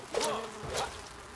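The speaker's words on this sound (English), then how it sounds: "These bees, they can sting you really good, especially when you're low level." Bees in the survival game Enshrouded buzz close by in two short droning swells, loud and wavering, alone without talk.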